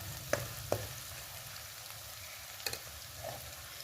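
Sliced onions fry in oil over high heat, a steady close sizzle broken by a few sharp clinks and scrapes of a utensil against the pan.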